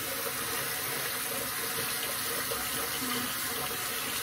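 Tap water runs steadily from a bathroom faucet into a sink during face washing on a weekend morning, a continuous close hiss with no pauses.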